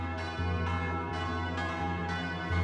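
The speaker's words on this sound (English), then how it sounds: "throughout the country church bells may ring" Church bells ring out in overlapping, sustained peals on Holocaust Remembrance Day in Israel, loud and resonant, with repeated strikes about every half second and no voices.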